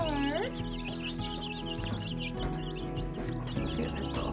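Young chicks in a chicken coop peep and chirp continuously up close, with soft clucking from older hens mixed in and someone speaking over the busy, steady bird chatter.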